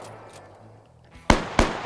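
Two sharp, close gunshots ring out in a World War II shooter game, a few tenths of a second apart, after a quieter stretch of low background game noise.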